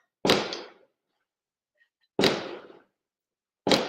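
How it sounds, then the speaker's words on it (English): Fireworks go off outside in three sharp, distant-sounding bangs spaced a second or two apart, each with a short crackling decay, and no talking between them. "They're going in with these damn fireworks."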